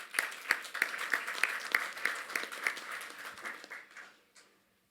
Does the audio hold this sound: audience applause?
yes